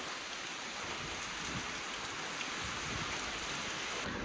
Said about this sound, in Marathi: हे बघा पाऊस आलाय कसला मोठा